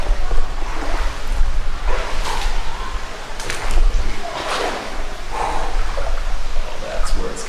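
Someone wading waist-deep across a cold river inside a Colorado ice cave, with continuous rushing and splashing water, gusty rumble close to the microphone and a few heavy breaths.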